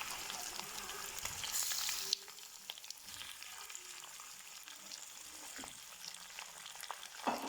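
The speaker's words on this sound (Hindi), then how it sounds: "now I am adding my chicken in it" Chicken pieces hit hot oil with browned garlic and onion for aloo chicken. A loud, close sizzle at first settles into a quieter crackling fry with occasional stirring clinks.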